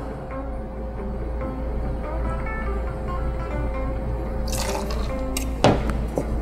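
Micampo Blanco tequila is poured into a jigger with a soft trickle and faint drips over a low background hum, ending in a brief splash and a clink of glass.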